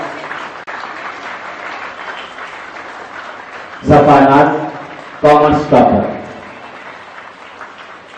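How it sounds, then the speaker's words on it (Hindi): An audience at a school event claps for Class 12 toppers as their names are announced, with two loud bursts of applause between a man's spoken announcements over a steady room murmur. "तालियां बजती रहनी चाहिए।"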